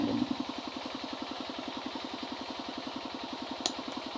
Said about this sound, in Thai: เสียงเครื่องดังหน่อย เครื่องสูบน้ำเขาสูบใส่ไม้ไฟเพาะ